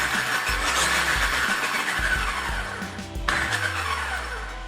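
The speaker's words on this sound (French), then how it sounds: "vous avez le petit test de démarrage de la voiture" Arrma Outcast 8S EXB RC car, a brushless 800KV setup on a 200 A controller, starting and driving off: a series of short motor whirs and bursts, then a longer sustained run with tire noise, close and fairly loud.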